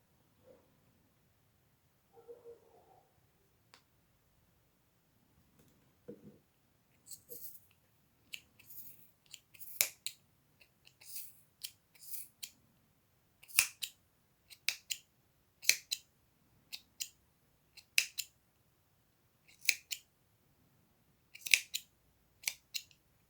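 Scissors snip material in a quiet room, a series of crisp close cuts at uneven intervals, growing more frequent after a few soft handling sounds.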